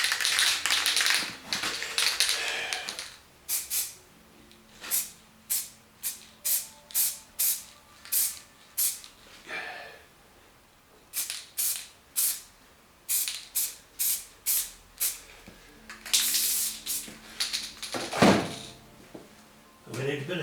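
An aerosol spray paint can sprays white paint onto a tank in a rapid series of short hissing bursts, loud and close, with pauses between groups of bursts and occasional rattling.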